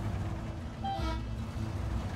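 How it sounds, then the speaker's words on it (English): A vehicle air horn gives a single short, loud toot over a steady engine rumble. "The horn's pretty good as well. Air horn."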